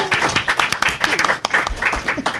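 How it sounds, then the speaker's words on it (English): Audience applause at a skepticism panel event, uneven clapping from a modest crowd with individual claps standing out and a few voices faintly mixed in. "You can applaud now."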